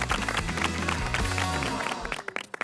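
A studio audience applauds on a cooking competition show, dense steady clapping mixed with music and a low hum, thinning out toward the end.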